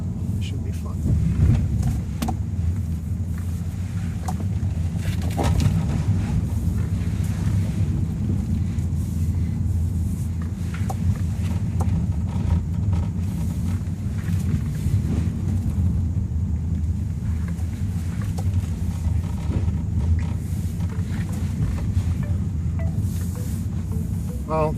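A 2014 BMW 2 Series, 228i or M235i, driven in sport mode along twisty roads: steady low engine and road rumble with wind noise throughout, close and continuous, with occasional talk over it.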